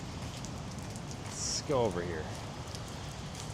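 Steady rain falls during a tropical storm, a constant close hiss of drops on surfaces, with a brief voice and a short squeaky burst in the middle.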